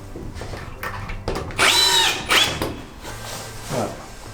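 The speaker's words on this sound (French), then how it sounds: "je vais visser pile au centre de là où j'avais une vis" Power drill driving a screw into a steel roof panel on a flat roof: short motor bursts, the strongest a rising then falling whine that peaks briefly before settling, heard close and alone.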